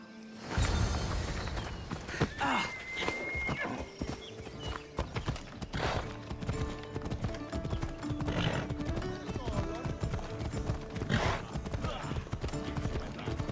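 Horse hooves gallop in a steady clip-clop rhythm during a race to a bridge near Sparta in Assassin's Creed Odyssey, with a whinny and scattered game effects and music layered over the galloping.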